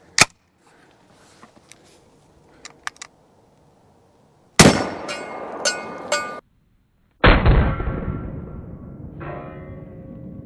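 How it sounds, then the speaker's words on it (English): A rifle shot strikes an exploding target taped to a watermelon, giving a loud, sharp blast followed by a few echoing cracks and a long rumbling decay, then a second heavy boom after a brief silence. Faint ticks and taps come before it. "I had a boom taped on it, but it didn't go off."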